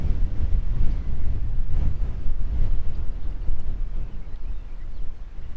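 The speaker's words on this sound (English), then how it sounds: "It is windy every single day during the day." Strong wind in open Iowa farm country buffets the microphone continuously, a heavy low rumble that gusts and eases slightly over several seconds.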